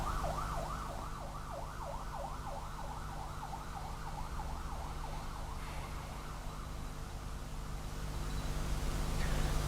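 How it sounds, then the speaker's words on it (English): An emergency vehicle siren wails in a steady rising-and-falling pattern for about six seconds, then fades into the background hum of distant traffic. No one speaks. "let the siren go"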